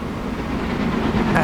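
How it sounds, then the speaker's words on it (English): A freight train runs in Transport Fever 2, giving a loud, steady rumble with a faint rhythmic rattle that holds for the whole short stretch. "That freight train has got in the way."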